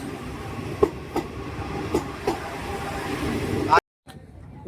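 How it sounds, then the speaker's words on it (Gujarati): A Vande Bharat Express passes at night near Jamnagar station, a steady loud rail rumble with rhythmic wheel clacks over the track joints, and a brief high squeal just before the sound cuts off abruptly. "વંદે ભારત એક્સપ્રેસ જાય છે"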